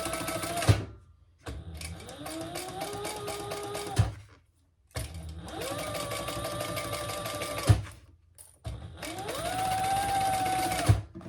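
Sewing machine top stitching a seam on a bag: three sustained runs of rapid mechanical whirring whose pitch rises as the motor speeds up, each ending in a clunk and a short silence.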